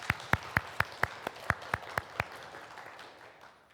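Applause from a church congregation welcoming visiting family members during a Sunday service: about ten separate, evenly spaced claps ring out close by and quite loud, then fade into a quiet room hum.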